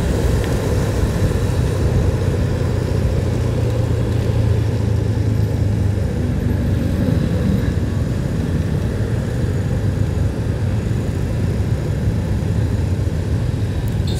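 Heavy road traffic at a holiday travel checkpoint, with vehicles bunched up at a red light, forming a loud, steady, close rumble of engines and tyres throughout, with no voices.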